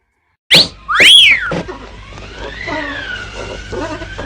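A person whistles loudly nearby: two sharp rising-falling whistle notes after a moment of silence, followed by softer murmuring and tonal sounds.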